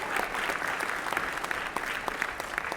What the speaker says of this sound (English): please give Pat more applause